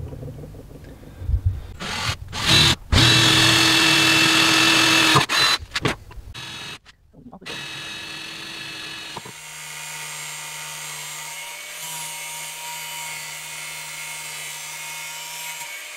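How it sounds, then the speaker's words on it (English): An angle grinder cutting metal for a folding knife whines in loud bursts that start and stop several times, then a lower steady motor hum settles in for the rest. "we can use the grinder and cut to the drill marks"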